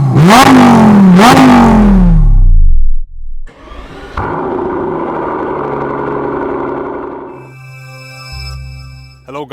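A Lamborghini Huracan Tecnica's V10 revs loudly and up close: two sharp rising blips, a brief drop, then a sustained high-pitched roar that settles into an idle rumble.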